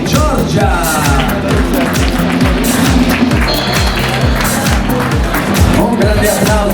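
Audience applause at a fashion night award ceremony, steady clapping from a crowd that carries on evenly throughout, with an amplified voice speaking over it.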